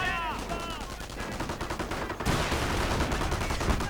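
Rapid gunfire crackles in a World War II strategy video game battle, a dense run of bursts that grows louder and busier partway through, with a short rising whine near the start.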